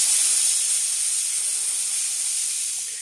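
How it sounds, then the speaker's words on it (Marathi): A pressure cooker set over a medium gas flame vents steam with a loud, continuous hissing whistle that holds steady and tapers slightly at the end, with no talk. "मीडियम गॅसवरती 4 शिट्या काढून घेते"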